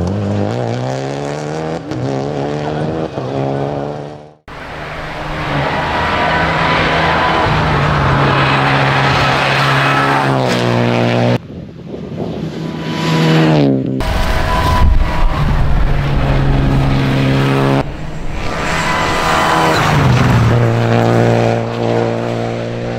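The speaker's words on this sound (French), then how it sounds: "La dernière des Porsche" A Porsche rally car at the Rallye de Saintonge roars past on the stage, its engine loud and rising, then cutting and revving again as more engine noise follows in bursts.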